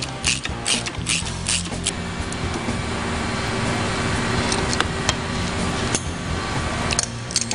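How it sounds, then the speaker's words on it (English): A ratchet tightens mounting screws on a preload adjuster bracket for a Progressive Suspension 465 Series monoshock on a Suzuki V-Strom, rapid metallic clicking in bursts, loud and close with no voices. "All we're going to do is just install the mounting screws to the bracket"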